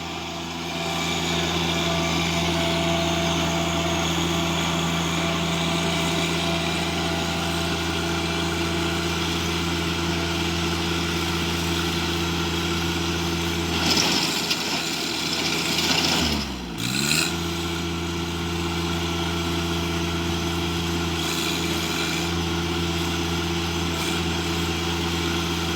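A tractor engine runs steadily while breaking ground for a greenhouse, a continuous droning hum with a brief dip and strained shift in pitch midway, then settling back to a constant idle-like rumble.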